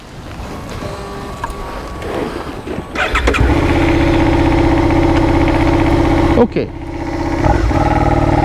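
A larger motorcycle engine on a compulsory basic training course idles, then starts and revs up into a loud, steady running drone, with a brief dip before it rises again; someone speaks briefly near the start.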